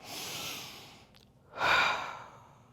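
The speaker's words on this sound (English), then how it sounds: "let's take 3 big breaths here" Two deep breaths taken during a floor stretch with knees pulled to the chest: a long airy exhale, a short pause, then a louder, fuller breath close by.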